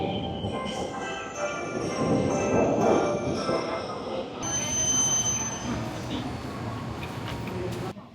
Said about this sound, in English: And I think that train is coming right now.